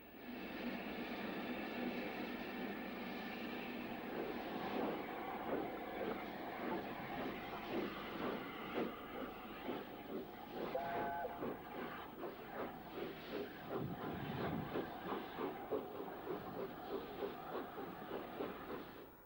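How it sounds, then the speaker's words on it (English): Steam locomotive Wild Swan with its corridor tender departing Retford station for Leeds in the 1960s, rhythmic chuffing exhaust beats quickening over a hissing steam wash, heard from the platform at moderate distance. "Wild Swan, complete with corridor tender, departs on the last leg of its journey to Leeds"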